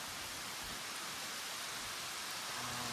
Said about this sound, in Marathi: फायनली पाऊस इलो असा.